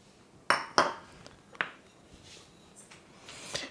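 Butter, Bisquick and sugar dropped into a mixing bowl for a pineapple cream cheese cake crust: a few sharp clinks and knocks of utensil on bowl, close and fairly quiet, spread over a few seconds.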